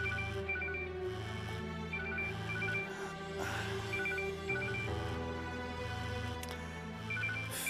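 A telephone rings in a repeating electronic pattern in a TV drama scene, steady and moderately near, with no talking.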